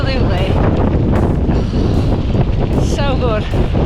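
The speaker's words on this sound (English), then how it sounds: "It is windy, but it's beautiful." Strong wind buffets the microphone with a loud, constant roar, while voices talk faintly under the rush of air.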